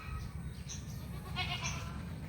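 Goats on a farm bleating near a water basket, a few wavering calls rising over steady low background noise, one around the start and louder overlapping bleats later in the short span.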